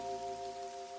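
A summer downpour in a cartoon, with steady rain pattering throughout at a moderate level, overlaid by sustained tonal sounds.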